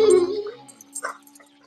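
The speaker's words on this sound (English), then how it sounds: "watch out for the dog" A dog lets out a brief high whine that trails off, followed by a few faint yips and whimpers during a reaction to a comedy film.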